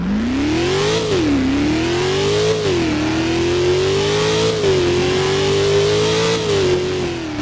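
A Mercedes C63 Black Series V8 in the Driving Empire racing game revs hard, its loud, throaty engine note swelling and dipping through several rises in pitch as it accelerates, with nothing else over it.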